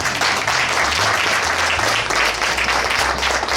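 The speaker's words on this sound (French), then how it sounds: "on va applaudir" An audience at a diploma ceremony claps loudly and continuously, a dense, even wash of applause close by, with deep rumbling tones moving underneath.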